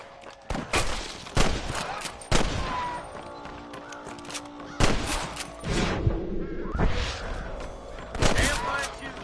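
A Red Dead Redemption shootout, with repeated loud gunshots and short volleys at irregular intervals. Each blast has a reverberant tail, and game character voices and ambient noise sit between the shots.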